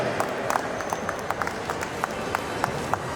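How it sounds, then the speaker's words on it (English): Audience applause at the inauguration of an office space in Thane, a light, scattered patter of claps with a few distinct claps standing out, fairly quiet and steady throughout. "can we have a big round of applause for that"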